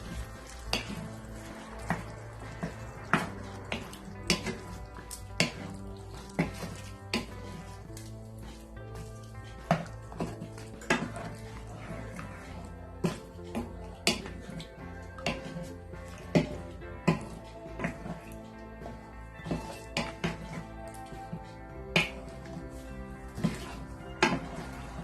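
A spoon stirs Pakistani-style beef stew in a pot over a low flame, producing repeated metallic clinks and scrapes against the pot in an uneven rhythm over a soft sizzle, close and steady.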